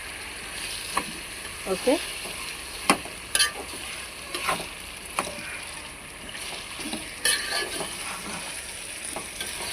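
Chicken pieces drop into hot oil for a curry and fry with a soft, steady sizzle, broken by scattered sharp clicks and clatters of a utensil. A voice speaks very briefly.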